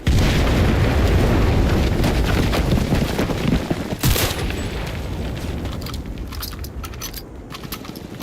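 Artillery barrage explosions in a video game, a dense roaring wash of booms and debris with a sharp blast midway that slowly thins toward the end.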